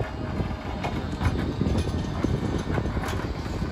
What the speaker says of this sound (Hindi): इधर से मेट्रो आ रही